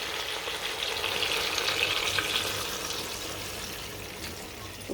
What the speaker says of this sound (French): Là, maintenant, je vais ajouter de l'eau.